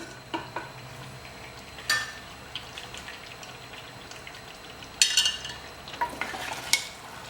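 Mutton korma is scraped and spooned from a pan into a pressure cooker, making soft clinks, scrapes and thick wet sizzling sounds in a quiet kitchen.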